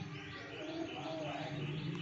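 A pet parrot calls in short chirping bursts over a steady indoor background, moderately loud and close, with no talk over it.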